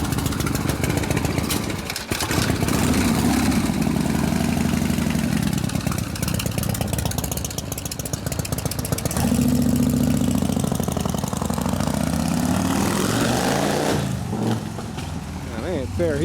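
A Harley FL with a stroker shovelhead big bore motor idles close by, a loud uneven lumpy rumble that rises and dips as the idle wanders, with people talking over it at times.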